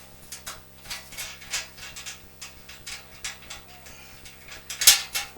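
A clamp being removed from a Shopsmith Model 510 woodworking machine during a wheel upgrade, heard as a series of light metallic clicks, ticks and rattles close by, ending in one sharp clank.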